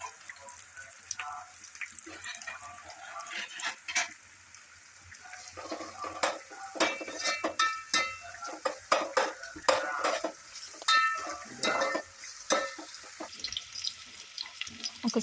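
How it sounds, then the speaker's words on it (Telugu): Onions frying in hot oil with cloves for a chicken curry, stirred steadily in the pan with a sizzle, scraping utensil strikes and clinks coming through close up, with no voices. "వేగిన నూనెలో ఆనియన్స్ వేసుకొని ఫ్రై చేసుకోవాలండి"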